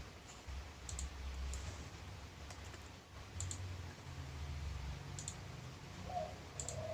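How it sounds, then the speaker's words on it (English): Faint computer mouse clicks while points are selected in geometry software, a handful of soft ticks spread out over a low background hum. "click each point and these lines"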